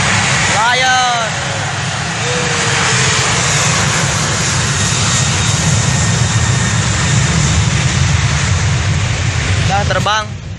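A Lion Air airplane roars loudly and continuously as it takes off, with the sound filling the whole stretch; voices speak briefly near the start and end.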